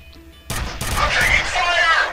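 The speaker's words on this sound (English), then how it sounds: "In fact, I think that's exactly what this is, a harpoon gun." A harpoon gun fires in the video game F.E.A.R., a sudden loud blast followed by a second hit and a ringing, metallic rumbling tail, up close and loud.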